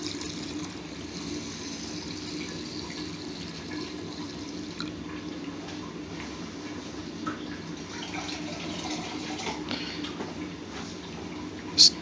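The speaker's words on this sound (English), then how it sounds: "Now the chef will add the water." Warm water pours into a pan of washed white rice on a cooker, a soft, continuous trickling and filling sound close by, fairly even throughout, ending with a short clunk.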